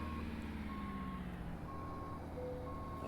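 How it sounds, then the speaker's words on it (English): An International Fleetstar truck in American Truck Simulator sounds its reversing alarm: evenly spaced steady beeps repeating about once a second over a loud, constant low engine drone. "I hate the sound of this truck's reverse"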